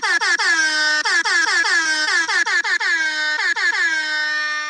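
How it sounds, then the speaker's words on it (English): A party air horn played from a phone blasts in a rapid stutter of short, loud, brassy honks with brief gaps, and a longer sustained blare near the end. "I keep the club party horn on my phone."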